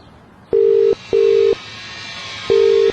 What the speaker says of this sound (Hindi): वापस कॉल करने पर फिर से वही अजीब आवाज आने लगी।